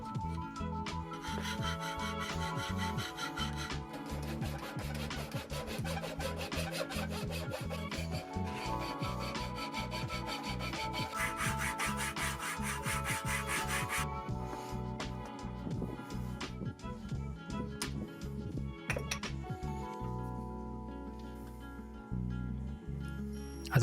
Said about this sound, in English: Here you can see my handmade pull saw at work.